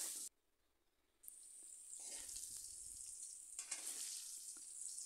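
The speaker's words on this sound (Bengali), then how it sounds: "আলু লবণ হলুদ দিয়ে লাল লাল করে ভেজে নিচ্ছি" Potatoes frying in oil with salt and turmeric give a steady, bright sizzle that starts abruptly after a short pause and keeps going, with occasional soft scrapes of stirring mixed in.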